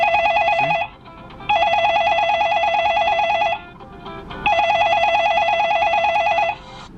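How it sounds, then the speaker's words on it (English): An incoming phone call rings through the Bluetooth system of an Audi A-series car, with two long bursts of warbling electronic ringtone, loud and clear, separated by short quiet gaps. "if you have an incoming call, I'm dialing my phone now."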